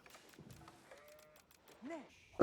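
Sheep in the video game Age of Empires IV give a brief, quiet wavering bleat amid soft game sounds, with a sharp click right at the end.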